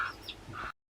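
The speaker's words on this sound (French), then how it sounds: "On a les petits poussins et en dessous des autres poules au-dessus" Brief, soft clucking from hens with chicks in a coop, a couple of short calls close by and then cutting off.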